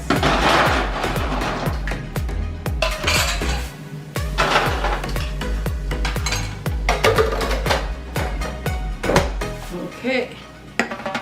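Ice dropped into homemade Caribbean-style pineapple ginger juice, with a loud, steady run of clinking and clattering cubes striking a container and one another close by.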